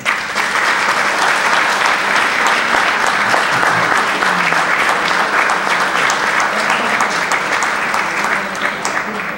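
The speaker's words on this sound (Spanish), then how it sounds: "Para ellos tres me gustaría un aplauso." Audience applause at a Rotary club installation of new officers, loud sustained clapping filling the room for several seconds with no letup.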